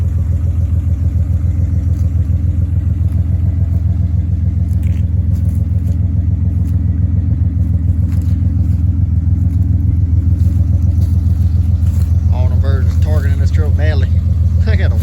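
An old car engine idling after a cold start at 37°F, giving a loud, steady low rumble that continues throughout, with a faint higher whine rising briefly near the end.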